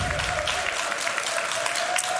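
A crowd at a Clash of Clans Builder Base tournament semi-final claps continuously, a dense steady wash of applause with no clear voices.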